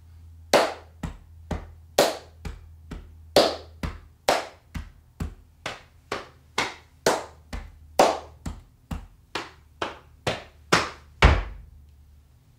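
Hand claps beat out a rhythm of six plus two beats in a rhythm lesson, about twenty sharp, close claps in a repeating grouped pattern over a faint low hum, with no talking.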